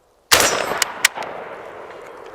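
A gas-operated shotgun shooting #8 shot on its lowest gas setting: one loud, close blast followed by a second sharper report under a second later, with a ringing outdoor decay and no talking.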